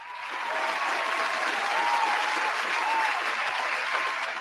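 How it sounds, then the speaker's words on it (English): Crowd applause swells into a sustained, even wash of clapping, dense and fairly close, holding steady before easing slightly at the end. "give him a round of applause"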